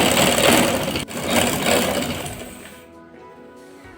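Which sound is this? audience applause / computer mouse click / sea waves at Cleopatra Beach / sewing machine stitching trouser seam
sewing machine stitching trouser seam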